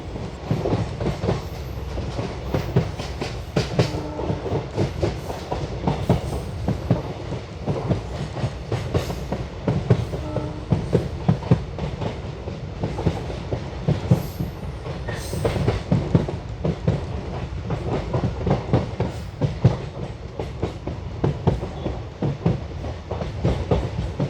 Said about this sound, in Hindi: अभी पहुँच रहे हैं पंबन रेलवे स्टेशन, जिसको ये क्रॉस करने के बाद आएगा न्यू पंबन रेल ब्रिज।